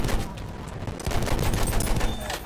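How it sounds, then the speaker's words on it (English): Continuous rattling bursts of enemy machine gun fire in Battlefield 1, fairly loud and dense throughout the short stretch, with little else over it. "Enemy machine gun!"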